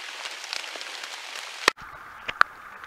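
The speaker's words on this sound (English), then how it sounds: "it's really starting to rain" Steady rain patters outdoors in a forest in cold weather, a soft continuous hiss broken by a few sharp, close clicks and knocks.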